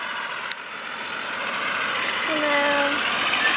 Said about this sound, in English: the school bus is coming by